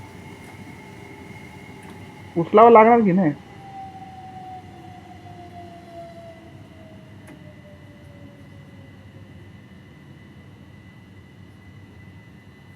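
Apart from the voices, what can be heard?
train running in video game Train Sim World 3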